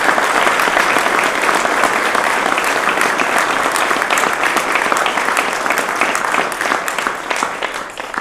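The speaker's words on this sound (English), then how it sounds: "Let's give him a round of applause." Sustained applause from a ceremony audience at a police badge pinning, steady dense clapping filling the room throughout and thinning slightly toward the end.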